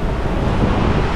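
Rough ocean waves on the Algarve coast with wind, a loud, continuous broadband roar and rush buffeting the microphone, with no distinct breaks.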